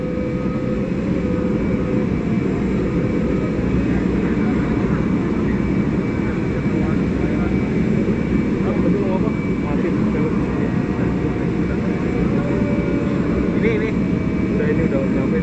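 The engine of a state aircraft runs at an airport during a presidential departure, a steady loud jet roar throughout, with no voices heard.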